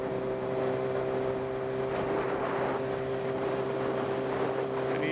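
Suzuki GSX-R sport bike cruising down a highway, its engine holding a steady droning hum under constant wind roar, loud and continuous from start to finish.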